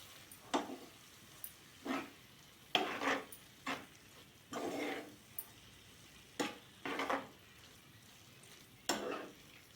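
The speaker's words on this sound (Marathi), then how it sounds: "पनीर घालून चांगले ढवळून घेऊया।" Paneer bhaji is stirred in a pan, a series of separate scraping strokes with a spoon at an irregular rhythm, close and fairly quiet with faint sizzling between strokes.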